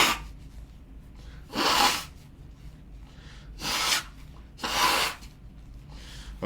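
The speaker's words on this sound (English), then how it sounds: "I might need to blow my nose" A person blows their nose several times in short, forceful nasal bursts, separated by quiet pauses, close to the microphone.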